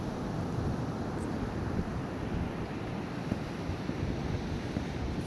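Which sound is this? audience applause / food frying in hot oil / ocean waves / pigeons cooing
ocean waves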